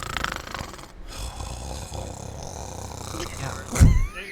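A person at a Dungeons & Dragons tabletop game imitates snoring with their voice, ending in one loud, throaty snort near the end over quieter background chatter.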